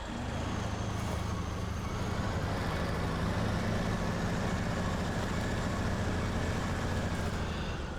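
A truck in SnowRunner rumbles along with a loud, steady low engine drone that holds constant for the full stretch, no speech over it.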